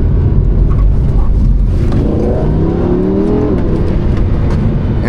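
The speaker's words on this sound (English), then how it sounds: "this is my Lamborghini Huracan Performante" A Lamborghini Huracan Performante drives with a loud, close engine roar that climbs in a revving sweep through the middle, over constant road and wind noise.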